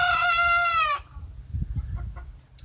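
A rooster crows loudly and close by in a long, harmonic call lasting about a second, followed by low, scattered clucks and soft rustling from the hen yard.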